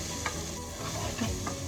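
Rice stirred in a pot for a simple yellow rice dish, a brief continuous scraping and bubbling sizzle heard up close, with no voices.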